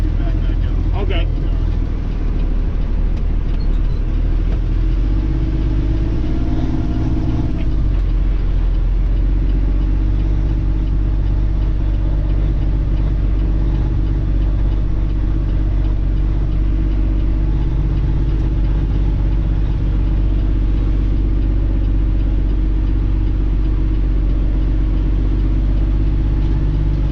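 A Peterbilt 389 custom big rig truck backs onto a road, its engine rumbling loud and close in a steady low drone while people talk over it.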